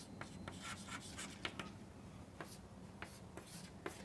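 Chalk or pen writing on a board during a university lecture on joint probability, with faint repeated scratchy strokes over a quiet room hum, no talking.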